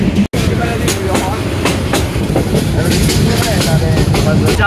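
Inside a moving passenger train, loud continuous rumble with repeated rhythmic clickety-clack beats of wheels over rail joints, and a brief sharp break near the start.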